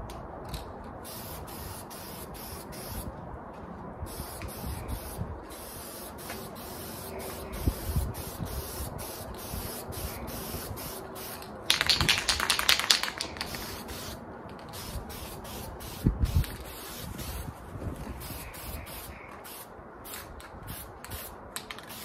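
A spray can lays satin black paint over a handmade all-metal front grill in a steady, close hiss that runs for most of the stretch, swelling in brief louder bursts, with no talking.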